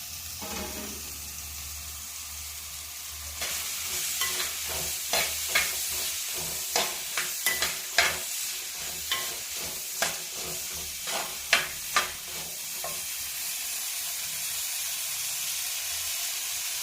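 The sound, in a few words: shallots, onions and green chillies frying in hot oil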